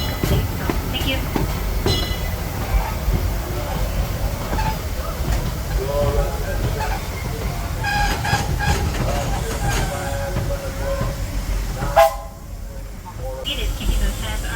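Narrow-gauge steam train ride behind the E.P. Ripley locomotive on the Disneyland Railroad: train rumble and rattling wheels on the tracks with hissing bursts, while voices and announcements carry over the ride.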